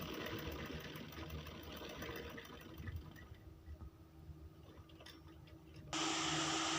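A sewing machine stitching piping onto the lower hem of a kurti runs in a steady, fairly quiet whir, with a brief pause and a shift to a louder, higher-pitched run near the end; no voices.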